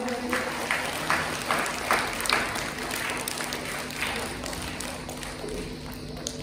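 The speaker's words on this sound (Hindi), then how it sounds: "एक साथ जोरदार तालियों के साथ स्वागत करेंगे।" Students at a school gathering applauding to welcome a speaker, a moderately loud crowd of hands clapping steadily with a few stronger bursts, a faint hum underneath.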